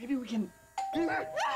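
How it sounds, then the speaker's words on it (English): A doorbell chimes twice with ringing tones while people talk over and between the chimes. "That was just the doorbell, right?"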